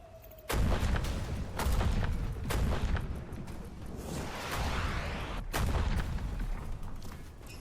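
Bazooka fire in a video game: sudden heavy blasts with whooshing rocket trails, a first boom cutting in sharply then repeated bursts and a second sharp blast, loud and close with no talk.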